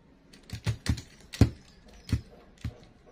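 Computer keyboard being typed on in short, uneven bursts, about seven distinct close key clicks with brief pauses between, quiet and alone without talk.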